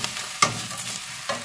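Cabbage sizzles and crackles in a hot pan on an electric stove, with a couple of sharp scraping stirs of a utensil against the metal.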